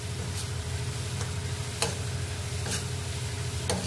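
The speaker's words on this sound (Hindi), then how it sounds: "प्याज को अब लगातार चलाते हुए अच्छी तरह से भून लेना है।" Onions frying in hot oil in a kadhai, with a steady soft sizzle and a few sharp spoon taps and scrapes as they are stirred, fairly quiet and close, no voices.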